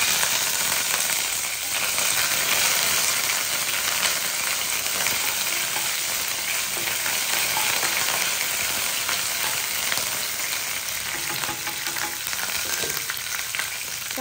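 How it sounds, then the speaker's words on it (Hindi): Curry leaves sizzle in hot oil while tempering dal, a loud, dense, continuous crackling fry that holds steady throughout with no voices. "तो तेल गरम हो गया था। अभी हम दाल में ये क्या बोलते करी पत्ती"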